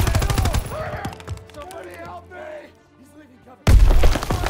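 Loud bursts of gunfire and a heavy blast in the Call of Duty WW2 video game, rattling at the start and slamming back in near the end after a quieter stretch with game sounds.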